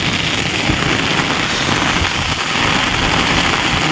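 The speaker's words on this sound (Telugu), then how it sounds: "వర్షం మాత్రం ఎక్కడ ఆగట్లేదు ఫుల్గా పడుతూనే ఉంది నాన్ స్టాప్గా" Heavy rain pours nonstop at night, a loud, dense and steady hiss of drops pounding surfaces close around, continuous throughout with no voices.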